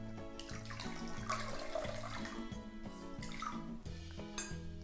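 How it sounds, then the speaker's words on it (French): Wet wool lifted from an acid soaking solution and wrung out, with water dripping and splashing into a basin in uneven bursts. Background music plays beneath it. "Je vais la sortir, la détremper un peu."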